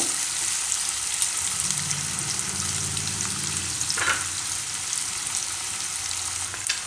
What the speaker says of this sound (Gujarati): થોડીક વાર ડુંગળી પાકવા દે તેલમાં